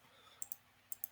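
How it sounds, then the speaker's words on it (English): Quiet computer mouse clicks come in two quick pairs, each a crisp double tick, against near silence. "we right click on it"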